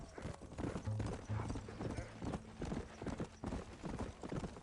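Galloping hooves from a horse in Red Dead Redemption pound out a fast, even rhythm up close, running continuously amid dense in-game ambience and a low hum.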